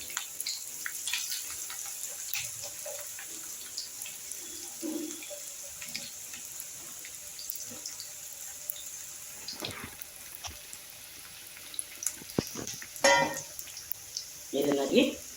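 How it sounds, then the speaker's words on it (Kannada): Cauliflower pieces for gobi manchurian going into hot frying oil, a soft steady hiss rising into louder crackling bursts near the end, with someone talking over it. "ಈಗ ಗೋಬಿನ ನಾನು ಎಣ್ಣೆ ಒಳಗಡೆ ಹಾಕ್ತಾ ಇದ್ದೀನಿ."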